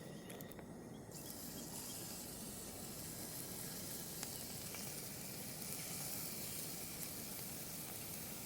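Bacon medallions sizzle steadily and loudly on a Fire Maple camp stove, a dense, continuous crackling hiss with no voices.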